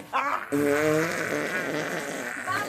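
A loud, long fart sounds close by, wavering in pitch and dragging on for about two seconds, with voice-like sounds mixed in around it.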